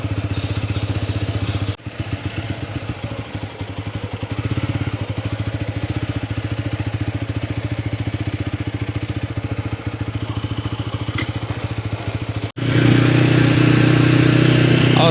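A motorcycle is ridden through the countryside. Its engine gives a steady, close, loud droning hum with a rapid pulsing beat, dipping briefly near the start and swelling louder near the end, with no clear talk.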